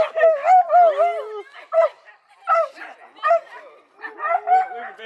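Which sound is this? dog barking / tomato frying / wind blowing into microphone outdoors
dog barking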